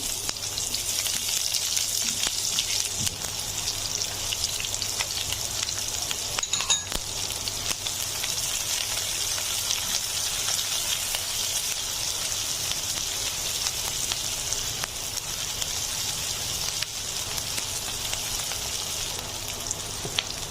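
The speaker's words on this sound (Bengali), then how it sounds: "দিয়ে দিচ্ছি অবশিষ্ট পেঁয়াজ এবং কাঁচামরিচগুলো।" Remaining onions and green chilies fry in oil with chopped garlic, giving a long, even, rain-like sizzle with occasional pops and a faint clink, close by and without speech.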